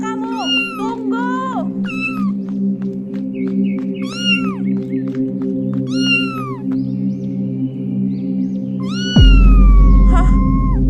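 Cat giving a series of high, wavering meows in quick bursts, close and clear over a steady low hum, ending with a sudden loud low thump and rumble.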